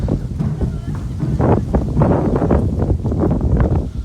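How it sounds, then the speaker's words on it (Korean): Strong gusty wind buffeting the microphone outdoors at a university festival, a loud continuous rumbling roar that swells and fades in irregular surges. "근데 바람이 너무 강해 아 바람 진짜 세네"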